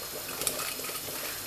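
Vodka is poured into a small glass for penne alla vodka, a short, soft trickling splash of liquid close by, with no voices.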